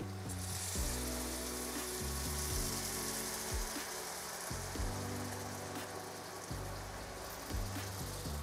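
Chicken broth is poured into a pan of seasoned rice, with steady sizzling and frying, liquid bubbling and hissing continuously while low background tones hum underneath.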